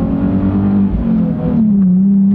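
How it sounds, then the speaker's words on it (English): A car with a muffler delete accelerates on a rainy road, its loud, raw exhaust drone rising steadily in pitch close by, with no talking. "as you can tell, it's got a muffler delete"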